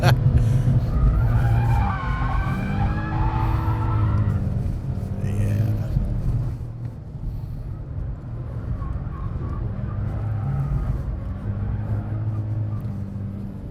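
An Infiniti race car skids and revs hard on a track, tire squeal and engine roar loud and close for several seconds before settling to a steadier drone, with voices faintly underneath.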